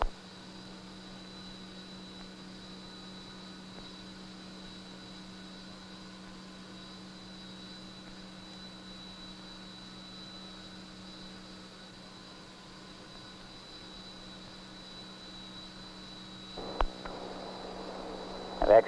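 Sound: GE36 unducted fan engine starting up, propulsor fans rotating

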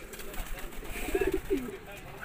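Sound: pigeons cooing

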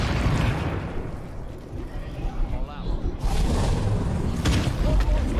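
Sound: explosion in video game State of Decay 2

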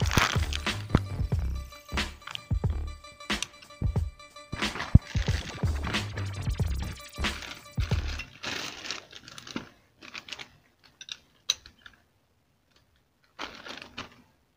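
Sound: loosening top fork cap nut on motorcycle

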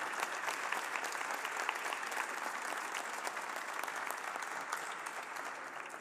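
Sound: applause in a parliamentary session

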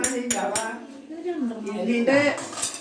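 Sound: dishes and cutlery clinking while curries are served

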